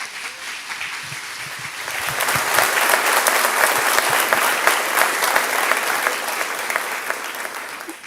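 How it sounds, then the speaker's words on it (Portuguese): Church congregation at an Orphan Sunday service breaking into applause, starting softly then swelling into steady, dense clapping from a large crowd that fills the room, with a few voices faintly underneath. "Falou menos de 1 minuto e já ganhou um aplauso isso."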